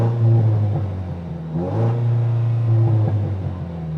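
A Toyota Tacoma TRD Pro with TRD performance intake and exhaust and an 8-speed automatic revs loudly up to its rev limiter and bounces off it, the engine note rising and holding in a strong sustained roar close by.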